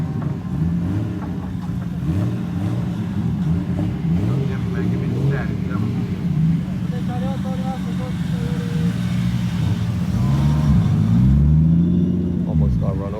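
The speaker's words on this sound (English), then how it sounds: "This is actually one of the coolest R34'S I've seen today." A Nissan Skyline R34 at an R34 gathering at Fuji Speedway, during a gymkhana event, rumbles loudly with revs swelling and dropping, then sweeps past close by near the end over a steady engine drone.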